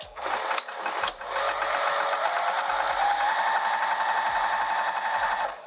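Sewing machine stitching a zipper pocket onto vinyl, short bursts of rapid mechanical stitching and then a long, steady run of needle clatter, close and loud.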